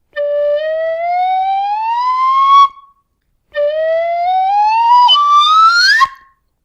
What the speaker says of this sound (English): It is literally just playing your whistle and moving your fingers randomly.